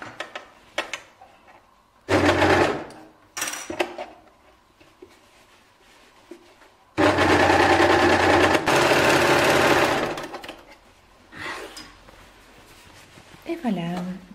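A serger stitches two layers of knit fabric for a T-shirt or dress, running in short bursts and then in one long loud run, with a voice talking between the runs.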